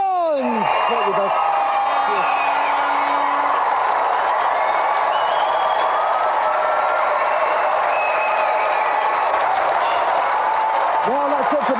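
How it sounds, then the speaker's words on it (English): A studio audience on the Gamesmaster TV show applauds challenger Doug Jones with sustained, loud clapping and cheering that fills the whole stretch, with a voice speaking over it. "let's have a round of applause for our gallant challenger"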